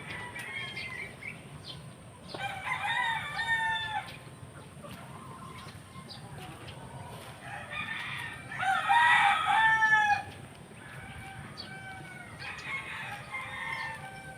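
A rooster crows twice at a gamefowl farm, long drawn-out calls standing out over a steady background of other fowl clucking and rustling.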